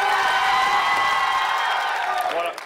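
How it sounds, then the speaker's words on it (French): A studio audience at a Quebec game show bursts into a loud, dense wave of applause, cheering and whoops for the contestants, sustained at full intensity before tapering slightly at the end. "Je veux que ça soit une bombe d'applaudissements."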